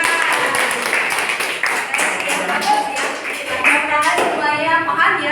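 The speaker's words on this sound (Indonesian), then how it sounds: "Tepuk tangan." Classroom clapping, a burst of hand claps from students that is fairly close and irregular, layered with voices talking over it.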